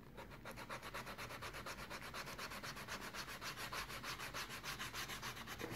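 Hand sanding with 80 grit sandpaper, a steady rhythmic back-and-forth scratching of regular even strokes, close and continuous throughout with no talking.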